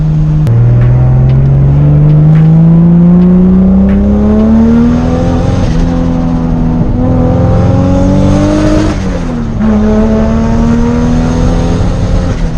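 A turbocharged Toyota Supra on a dyno runs at full throttle, its loud engine note climbing steadily in pitch through the rev range, dipping briefly near the end, then pulling again, with a faint rich breakup.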